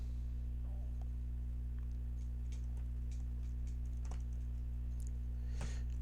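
Someone typing a short Linux shell for loop on a computer keyboard, sparse quiet key taps in irregular bursts over a loud constant electrical hum.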